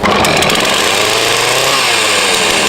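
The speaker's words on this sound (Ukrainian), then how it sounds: "Пора братися за бензопилку." Petrol chainsaw cutting through the trunk of a large Christmas tree at its base, a loud, steady high-pitched engine whine that holds constant under load, close and alone without any talk.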